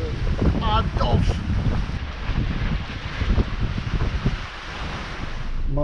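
Strong wind of about 15 to 20 knots gusts and buffets a sailboat crossing the Gulf of Patras, with waves washing and splashing close by throughout and faint voices now and then.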